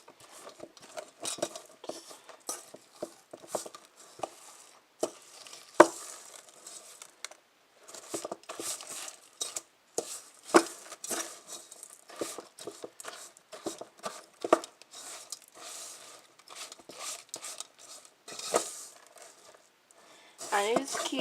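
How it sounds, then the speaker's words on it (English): A fork scrapes and taps against a bowl while pushing onion powder and other ingredients into cream cheese for stuffed mushrooms, making irregular close clicks and soft squishing in uneven bursts. "with your fork, pushing all the ingredients into the cream cheese until it's all mixed together"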